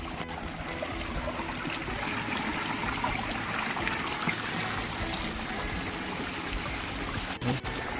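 A shallow creek burbles and trickles steadily as someone wades across it, the flowing water close and continuous, with a brief splash near the end.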